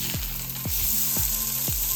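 Spicy salmon burgers sizzle steadily in a pan, a constant bright frying hiss with a few low knocks or thumps at regular intervals, with no talking.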